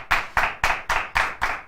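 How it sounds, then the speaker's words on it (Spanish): Six crisp, evenly spaced hand claps ring out close and clear, one every quarter second, applause for a student panelist on a school debate program. "le vamos a dar un fuerte aplauso"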